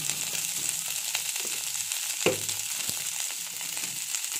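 Pieces of elephant foot yam fry in a pan with a soft, steady sizzle, close by, with a few light clicks of a utensil against the pan.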